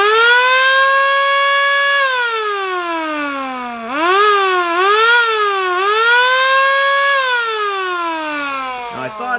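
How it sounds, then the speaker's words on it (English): Air raid siren mounted on a World War II themed bobber motorcycle, a loud, close wailing tone that rises, dips and swells again repeatedly across the whole stretch. "So let's hear this air raid siren."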